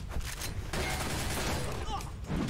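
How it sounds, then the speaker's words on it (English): A flashbang grenade goes off in a first-person shooter video game, a loud, sustained wash of blast noise with gunfire-like crackle and a faint ringing tone, while voices react over it. "Oh! Flashbang."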